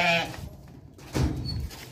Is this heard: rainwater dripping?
no